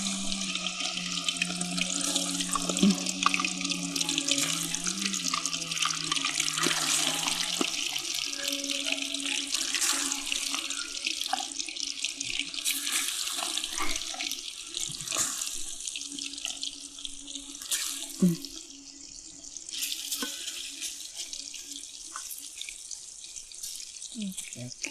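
Chicken fries in hot oil in a pan, giving off a steady, hissing sizzle that runs throughout and eases slightly near the end, with a faint low hum underneath.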